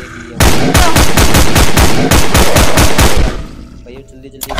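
Rapid automatic gunfire in a horror video game as creatures are shot, a loud, close, evenly spaced burst of about a dozen shots that then cuts off, with a brief voice.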